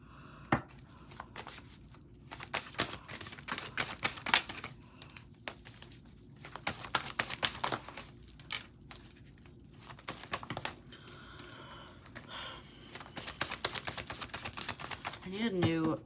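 Crisp rapid riffling and clattering of cards being shuffled in bursts, with short pauses between, close to the microphone.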